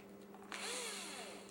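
A power drill spins up with a sudden whirr partway through, a faint high whine that holds steady over a low hum, heard alone without talk.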